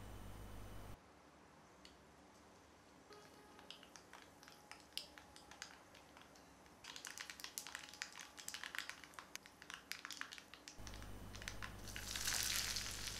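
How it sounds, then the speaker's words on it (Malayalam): Half a teaspoon of mustard seeds splutters in three tablespoons of heated coconut oil for a Kerala-style curry, a faint steady sizzle that turns into dense, rapid popping and crackling toward the end, with no talking. "വെളിച്ചെണ്ണ ചൂടാക്കി കഴിയുമ്പോൾ അതിലേക്ക് 1/2 ടീസ്പൂൺ കടുകിട്ട് പൊട്ടിക്കണം."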